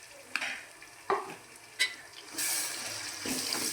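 Ginger-garlic masala for bagara rice fries in a pan, a steady soft sizzle broken by a few sharp stirring clinks of a spoon against the pan, close and fairly quiet with no talk.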